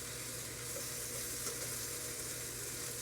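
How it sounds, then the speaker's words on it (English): Bacon frying in a pan in a home kitchen gives a steady, dense sizzle with constant crackle, close and fairly loud, continuing without a break and with no voices. "So I'm gonna finish frying up my bacon"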